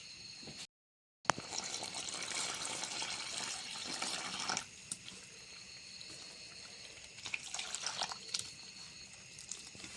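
Water pouring and splashing into a bowl of rice flour mixed with wheat flour for patishapta pitha batter, a steady running liquid sound with a brief gap and soft splashes, no talking.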